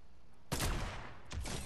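Sniper rifle shots in the video game Fortnite: two sharp, loud cracks about a second apart, each followed by a short decaying tail, close and without talk.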